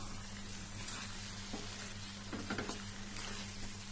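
Pallipalayam chicken being stirred with lemon juice in a pan, a steady close sizzle with a few soft scraping stirs.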